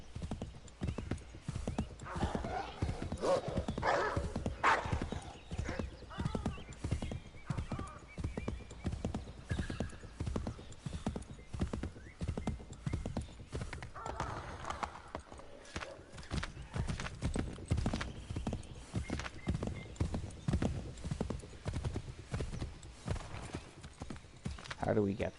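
Hooves clip-clop in a fast, steady gallop throughout while a horse neighs now and then, with someone talking over it in the Assassin's Creed 3 game.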